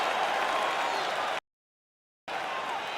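The crowd in the UFC 5 video game cheers and applauds in a steady roar at the end of the fight. It cuts to silence for almost a second, then the roar resumes.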